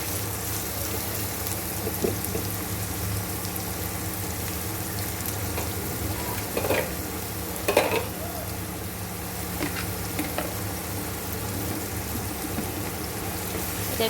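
Onions for a restaurant-style chicken curry fry in a pan with a continuous, rain-like sizzle, broken by a few stirring clatters near the middle.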